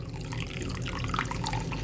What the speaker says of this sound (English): I'm gonna add some warm water to it, at least half cup